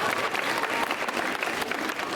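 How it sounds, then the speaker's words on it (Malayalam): An audience applauding at a school annual day prize giving, a dense steady clapping from a large crowd in a hall that keeps on throughout without any letup. "കൈയടിച്ചൊന്ന് പ്രോത്സാഹിപ്പിക്കണേ സമ്മാനം വായിക്കുന്നവരെ"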